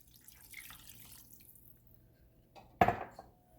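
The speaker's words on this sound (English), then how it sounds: "Pick up the heat and add the vegetable stock." Vegetable stock poured into a pan of tomato sauce, a brief burst of splashing liquid near the end after a quiet stretch of faint kitchen noise.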